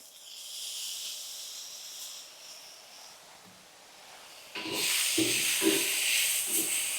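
Green chillies fry in hot oil in a pan for a Maharashtrian mirchi fry, giving a steady sizzling hiss that swells sharply louder partway through, with soft stirring thumps and no talking.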